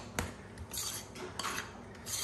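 Dumpling batter is stirred in a bowl for chicken and dumplings, giving soft rubbing scrapes with a few light clinks of the utensil against the bowl, close and fairly quiet.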